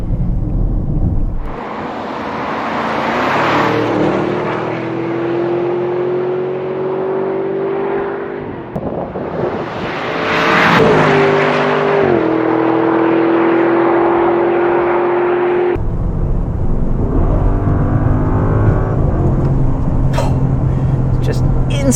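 A 2025 Audi SQ8 accelerating hard, its engine note rising in a loud sustained surge, dropping briefly, then climbing again before falling back to a lower drone, heard from inside the car.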